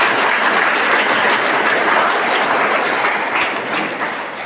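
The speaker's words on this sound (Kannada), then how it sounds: "ಬಡಿರ್ ಜೋರ ಚಪ್ಪಾಳೆ" A large crowd at a motivational talk bursts into loud, dense applause that holds steady and close for several seconds before easing slightly toward the end.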